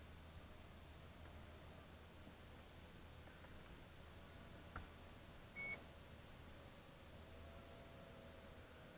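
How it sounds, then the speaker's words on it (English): A Mini Spider Hex drone sits on grass after a fail-safe landing and gives one short, faint electronic beep, standing alone over a steady low outdoor hiss. "Well, I hear it beeping."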